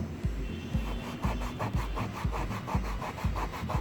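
Steady back-and-forth rubbing of a cloth with cleaner over a car dashboard to remove a dark gum mark, repeating in an even rhythm roughly every half second, close and moderately loud with no speech.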